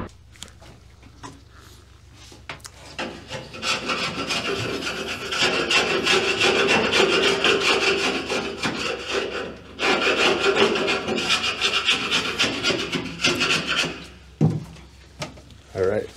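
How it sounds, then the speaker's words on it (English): Rasping, sawing strokes as the edge of a leaking fuel tank on a fishing boat is trimmed, loud and sustained in long runs with a brief pause midway and scattered knocks near the end. "just trimmed off the edge of this just to give us a little more opening here"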